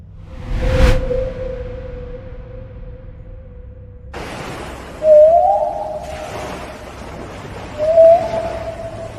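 Gray whale calls come through a hushed underwater background. A sharp click burst opens the sequence, a long low tonal hum follows, and then two rising whistle-like grunts sound several seconds apart.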